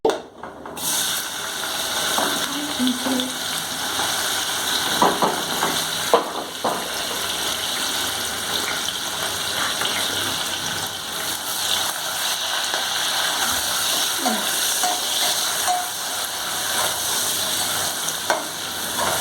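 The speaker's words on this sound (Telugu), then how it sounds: "మంచిగా ఫ్రై అవ్వాలి ఆనియన్స్." Onions fry in a pan for chicken biryani, a steady close-up sizzle with occasional scrapes and stirring knocks that runs on without talking.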